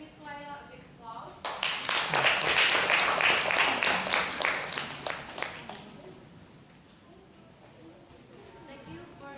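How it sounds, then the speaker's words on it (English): An audience at a weekly discussion session applauds a presenter, a few seconds of moderately distant clapping that swells then tapers off, with voices speaking before and after. "let's give Miss Laila a big applause"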